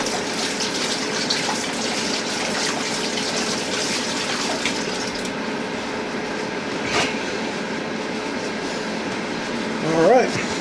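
Water runs steadily from a tap while hands are washed, a continuous close rushing hiss with light splashing, and a person talks briefly near the end.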